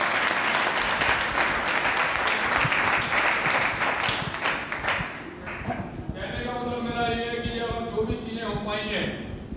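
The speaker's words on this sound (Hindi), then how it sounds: "जोरदार ताली संस्था के लिए" Loud audience applause at a Safe Shop gathering in Pilani breaks out for an organisation and fills the first half, then fades into quieter room sound with a sustained tonal hum.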